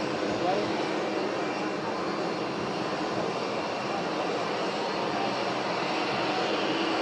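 An airplane carrying the flag procession lands at the airport: a loud, continuous broadband roar of aircraft engines holds steady throughout, covering everything else.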